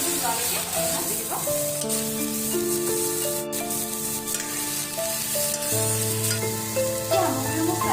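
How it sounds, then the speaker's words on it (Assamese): Ingredients for matar paneer fry and get stirred in plain oil in a pan, giving a steady sizzle with scraping strokes over a sustained tonal musical backing. "এই সকলোখিনি কেঁচা গোন্ধটো যোৱালৈকে অলপ ভাজি দিব।"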